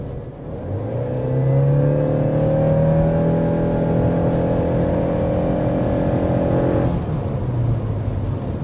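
A 2026 Subaru Crosstrek hybrid engine pulls hard from a roll, its tone rising steadily through the rev range before easing off, heard from inside the cabin with no talking.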